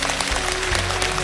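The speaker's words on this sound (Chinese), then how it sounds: "现场观众的掌声就是对你最好的鼓励。" Studio audience applause on the Chinese TV dating show Fei Cheng Wu Rao: a brief, dense burst of many hands clapping, continuous and fairly loud throughout.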